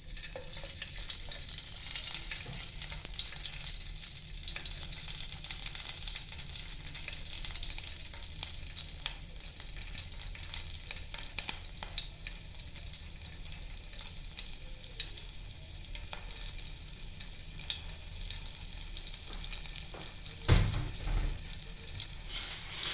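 Garlic sizzles in hot oil for a tempering, with a steady, crackling hiss that holds throughout, close by, with occasional stirring clinks and no voices.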